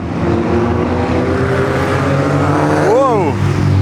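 Race cars from the video game DiRT Showdown speed around a track, a loud steady engine drone with a rising and falling whine as one car passes close by, under continuous commentary.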